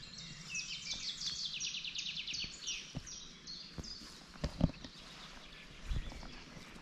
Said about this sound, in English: Just bird song.